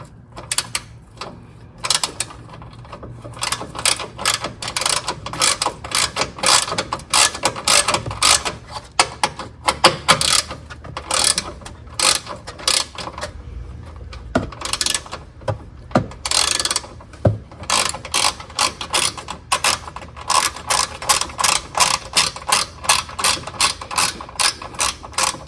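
A ratchet loosens the battery terminal bolt on a Honda V6 engine, producing long runs of rapid, evenly spaced metallic clicks, close and fairly loud, broken by a few short pauses, with no voices.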